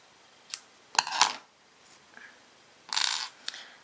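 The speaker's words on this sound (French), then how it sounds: "je coupe mon fil" Scissors snip through yarn while an amigurumi rabbit is being crocheted: a faint click, then a longer, louder crisp cut, and another sharp snip a moment later, close and quiet between the cuts.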